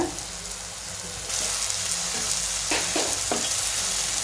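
Grated coconut roasting with salt and spices in a pan, a steady sizzle that grows louder partway through, with a few sharp scraping stirs near the end.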